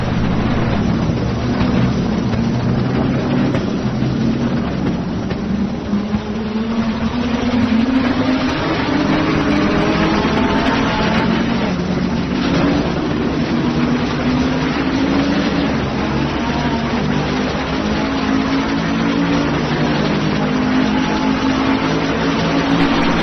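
A red and black Honda NSX GT3 race car in a racing video game sits on pole at the Nürburgring, its engine droning steadily with a continuous low rumble and shifting tone throughout, with no voices.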